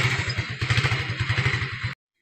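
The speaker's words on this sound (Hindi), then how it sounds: "अब बाइक पे सफ़र करते हैं" Motorbike engine putters in a steady rapid throb during a ride, with wind rush and road clatter over it, loud and close before cutting off abruptly.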